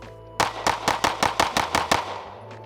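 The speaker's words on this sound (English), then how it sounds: "I can run it real quick and not drop a shot at 15 yards with 115 grain." A CZ P-10 C ported 9mm pistol firing 115 grain rounds: nine sharp, loud shots in a fast, even string, each with a short ringing tail, then fading echo.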